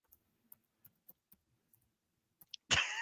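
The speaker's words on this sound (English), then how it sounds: "I hear him typing." Sparse, quiet keystroke clicks from someone typing on a keyboard, about eight separate taps spaced irregularly, followed by a sudden louder burst of noise at the end.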